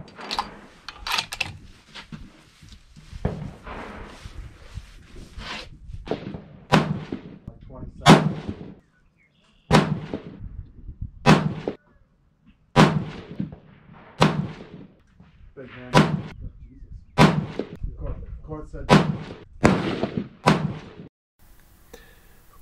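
A 6.5 PRC rifle fires a ten-shot ladder test outdoors: sharp, loud reports spaced a second or two apart, each with a short echoing tail, with a quiet pause midway through the string.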